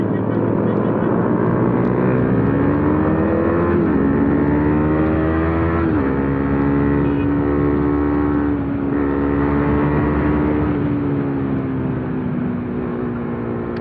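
A Husqvarna Vitpilen 250 motorcycle's exhaust drones steadily while riding, its pitch rising and dipping gently with the throttle under constant wind noise.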